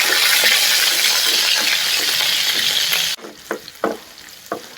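Two full heads of garlic sauté in oil in a pan, a loud, dense sizzle that cuts off abruptly near the end and leaves a few close spoon knocks and clinks.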